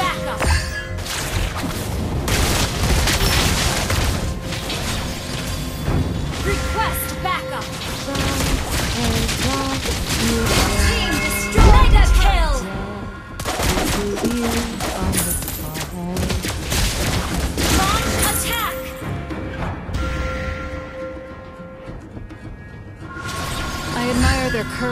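Rapid video-game gunfire rattles almost nonstop in loud bursts, with booming impacts and crashes layered over game music and voiced callouts, the barrage briefly thinning near the end before picking up again.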